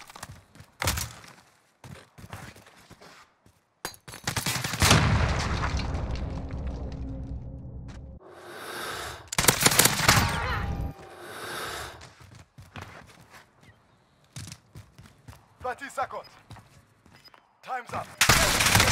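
Video-game machine gun sprays a full 100-round magazine in long, loud bursts, with sharp gaps and booming impacts between volleys and some breathy vocal sounds in places.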